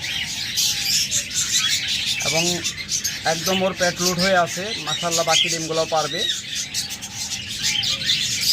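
Caged pet birds such as budgerigars, doves and lovebirds chirp and tweet softly in the background while someone talks over them for much of the time.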